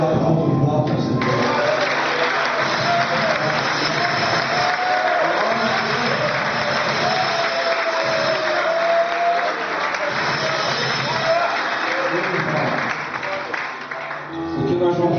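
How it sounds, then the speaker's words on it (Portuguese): Church congregation applauding during a Sunday service, a loud, dense, sustained round of clapping that fills the whole stretch, with faint voices under it. "É um aplauso de volta, Senhor."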